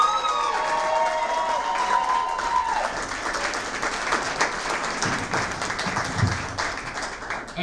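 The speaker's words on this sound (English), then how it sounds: "how about a big round of applause" A large theater audience claps continuously with whoops and cheers, a single loud whistle rising near the start, the applause dense and sustained throughout.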